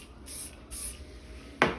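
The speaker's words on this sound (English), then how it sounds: "We're gonna spray it with our wax spray." Wax spray hisses onto hair in two short bursts, then a sharper third spritz close by, with quiet pauses between and no talking.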